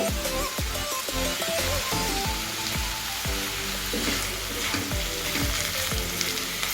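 Snake gourd frying in a pan over a medium gas flame gives a dense, continuous sizzle, punctuated by regular low thuds and scrapes of stirring, close and loud with no voices.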